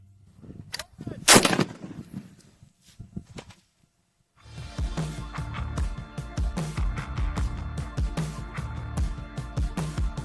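A .50 BMG rifle fires a normal cartridge outdoors, a single loud, sharp crack followed by a long rumbling echo that rolls on for several seconds.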